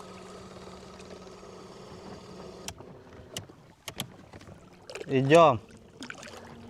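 A Sea-Pro VST 34/66 electric boat motor runs in reverse at second speed against the current on open water. A faint steady whine mixes with splashing and wind, and a brief voice speaks near the end.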